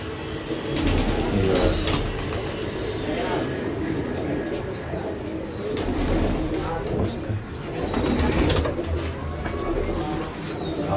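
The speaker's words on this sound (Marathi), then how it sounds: "हे बघ टेडी कबूतर" Teddy breed pigeons coo steadily in a breeding loft setup, a dense layer of soft repeated coos and rustling close by, with occasional wing sounds and background voices.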